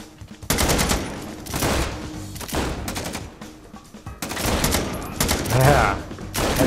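Gunfire from the video game XIII (2020): bursts of shots in two clusters, loud and close, broken by a quieter gap, with a voice speaking over parts of it.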